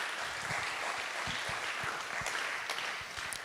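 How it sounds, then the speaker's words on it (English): A steady round of applause from an event audience, dense continuous clapping held at an even level throughout, moderately distant and without talk over it. "Let's give them a round of applause."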